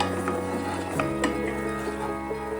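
Spice masala with fenugreek leaves being stirred and fried in a pan over medium-low flame for an egg and yogurt curry, with a soft sizzle and light scraping and clinks of a spoon, quiet and close.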